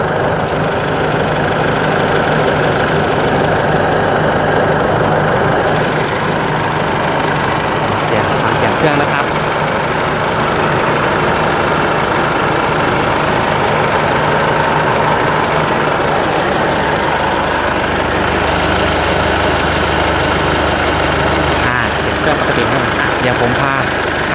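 A 2013 Isuzu D-Max 3.0 diesel pickup engine idles steadily and evenly up close, a constant low rumble with a faint knocking texture throughout.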